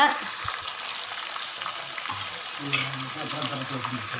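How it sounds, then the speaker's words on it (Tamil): Crab pieces frying in hot oil in a wide pan for curry, a steady crackling sizzle with soft stirring scrapes and a few clinks of the spoon against the pan. "இந்த எண்ணெயிலையே இந்த நண்டு வேகணும்"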